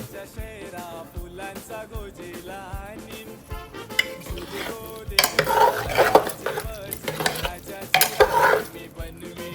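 Coriander being stirred into a shevla vegetable curry in a pot, with wet squelching scrapes and clinks of a spoon against metal, and louder rattling, sizzling bursts toward the end.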